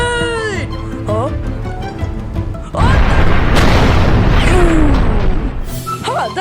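A cartoon grenade blast in an animated Nerf war between plush toy characters: a loud, sustained boom erupts midway and rumbles on for several seconds, with squeaky character voices before it and again as it fades.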